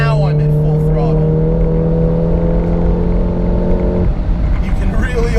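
A 400 HP RevoTechnik Stage 3 VW Mk7 GTI at full throttle on a race track, a loud, close, strained engine drone holding a steady pitch before shifting near the end, with someone talking over it.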